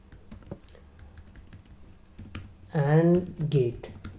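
Clicky keys on a computer keyboard as Laravel PHP code is typed, with quick irregular taps close to the mic; someone speaks briefly over the final stretch.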